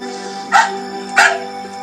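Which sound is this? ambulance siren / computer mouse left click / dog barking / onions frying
dog barking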